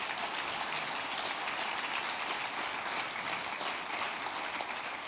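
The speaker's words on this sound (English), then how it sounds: "let's give our panelists and honorees a round of applause today if we can" Sustained applause from a seated audience honoring panelists and honorees at the close of an arts leadership plenary session, dense and steady for the whole stretch with no talk over it.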